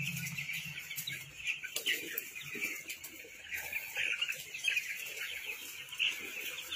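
Poultry chicks of an unknown breed in a poultry farm shed chirp constantly in a high, dense chorus, with someone speaking faintly in the background.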